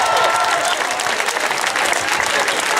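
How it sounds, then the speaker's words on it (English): Crowd at an outdoor marriage equality rally in Taylor Square, Sydney, applauds steadily and loudly, a dense, continuous wash of clapping held at even strength for the whole stretch. "massive applause for everybody who turned up today"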